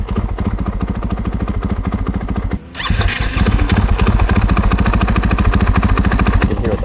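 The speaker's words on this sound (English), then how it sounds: "You can hear what the bike sounds like." Motocross bike engine picked up by a helmet or bike-mounted action camera, loud and close throughout with a continuous revving drone and rapid throttle changes, briefly dipping before surging back up.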